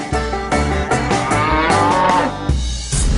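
A loud cow moo fills a video game scene, a long, drawn-out bellow with a second one starting near the end, heard alone without speech.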